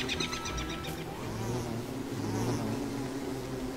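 In the video game Don't Starve, bees buzz close by in a swarm, a continuous wavering drone with layered high hums and no talk over it.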